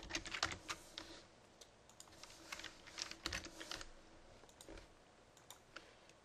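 Quick bursts of keystrokes on a computer keyboard while text is entered for a GIMP text effect, steady close clicking alone without talk.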